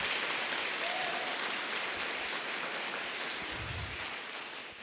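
A church congregation applauds during a sermon, producing a continuous wash of clapping that holds steady and then fades slightly toward the end.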